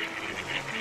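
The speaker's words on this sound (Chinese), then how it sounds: "这种赶海觅食的鸭子，有人称呼它为跑海鸭" Ducks forage on a tidal mudflat beach beside a mangrove in Hainan, giving soft repeated quacks over a steady wash of background sound in a very short moment.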